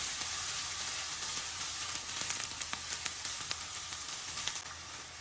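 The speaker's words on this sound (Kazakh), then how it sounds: "Қызып тұрған табамызға сұйық майымызды құйып қыздырып алып, пиязымызды салып, сарғыш түс болғанша қуырып аламыз." Onions fry in hot oil in a pan with a steady, bright sizzle and scattered small pops and crackles, close and continuous with no voices.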